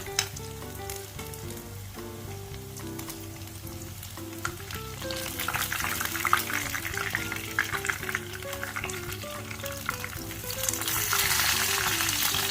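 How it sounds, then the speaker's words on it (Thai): Sun-dried catfish and snakehead frying in hot oil, flipped over in the pan: a steady bubbling sizzle that swells louder after the turn, under soft background music. "ตอนนี้เนื้อปลาก็สุก เราก็สามารถกลับอีกด้านหนึ่งลงทอดได้เลยค่ะ"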